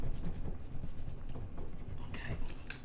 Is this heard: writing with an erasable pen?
yes